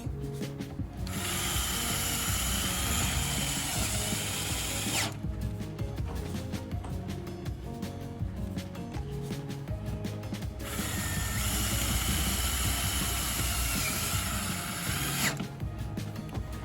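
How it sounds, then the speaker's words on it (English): Self-tapping sheet metal screws being driven with a power drill on an RV friction door hinge: two long bursts of high whining drill spin with ratcheting clicks, separated by a stretch of lower mechanical rattling, close and steady with no talk. "Don't you love self-tapping sheet metal screws?"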